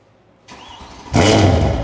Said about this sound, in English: Now let's hear the 2015